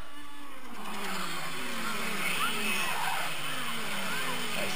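Racing go-karts surge away from the start line at a karting race, engines buzzing and rising in pitch as they pull off together, while a commentator talks over the engine noise.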